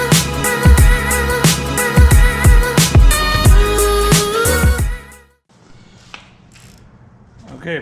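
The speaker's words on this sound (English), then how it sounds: "we got a 10mm ratchet wrench. We're gonna remove this air filter, these bolts here" A 10mm ratchet wrench works the air filter bolts on a Honda Northstar pressure washer, giving loud, rapid ratcheting clicks close up for about five seconds, then near silence with a few faint taps.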